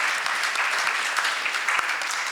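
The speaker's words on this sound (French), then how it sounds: "on peut l'applaudir s'il vous plaît." Steady applause from a sizable crowd fills the space, a dense continuous patter of many hands clapping at even loudness.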